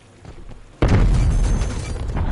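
A sudden loud boom in the Call of Duty Cold War multiplayer Nuketown map, a sharp explosion onset followed by a sustained rumbling roar that stays loud to the end.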